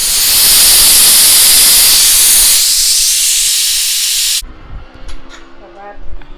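Pressure cooker steam hissing loudly and steadily while cooking prawn biryani, a broad continuous rush that cuts off abruptly, leaving quieter kitchen clatter behind.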